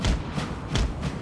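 Cannon fire from Napoleon Total War pounding retreating infantry, heard as repeated heavy thuds about every half second, each with a bright crack on top, loud and close with no talk over it.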